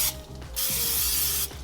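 Hissing bursts from a spray can coating tortilla chips for air fryer nachos, one short burst then a longer steady one, with faint clicking and rattling of the nozzle.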